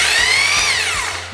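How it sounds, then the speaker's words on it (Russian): A Makita 2470 rotary hammer running on test, a loud close steady whine whose pitch sweeps down as it winds, with no talk. "Ну и конечно же попробуем перфоратор Makita, как в работе."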